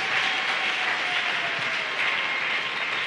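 Church congregation cheering and applauding at a year-end French-language revival service, a steady dense wash of clapping and voices holding at an even, loud level for the full stretch.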